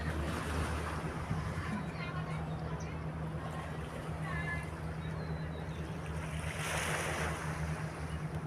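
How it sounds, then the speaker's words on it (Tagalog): Rough surf breaks along the seaside in a steady, continuous wash, with wind buffeting the microphone and a low hum underneath; no voices stand out. "Maalon."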